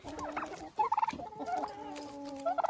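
Farm turkeys gobbling close by, in several quick, rattling bursts that overlap one another, with no talk.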